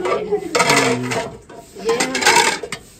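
Metallic clinks and scrapes of a metal karahi wok being lifted and handled in a village kitchen, with a couple of ringing clanks and rattles in two bursts, close by.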